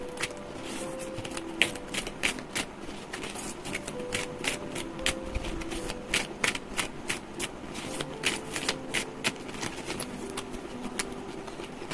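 Oracle and tarot cards being shuffled by hand, a steady run of quick riffling flutters and soft slaps carrying on close and clear, with no talk.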